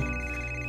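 A cartoon phone rings with a steady electronic tone in a children's animated show, sounding alone and loud through the whole short moment.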